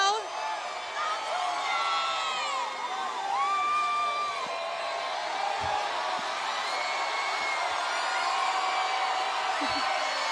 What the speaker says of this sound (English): Crowd reacting to Jose Altuve.